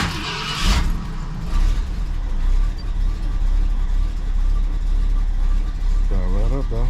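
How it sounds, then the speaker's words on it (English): A 1968 car engine is cold started and settles into a low, steady idle rumble close by, with someone talking over it. "Give it a cold start."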